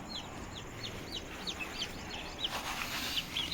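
Desi hens and chicks on a poultry farm during hot weather, with repeated high chirps and peeps in a steady, regular series, fairly faint and close, with no voices.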